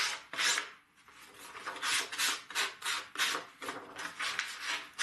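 Steady hand sanding of wood with a rhythmic back-and-forth rasp, close and moderately loud, running continuously in repeated strokes.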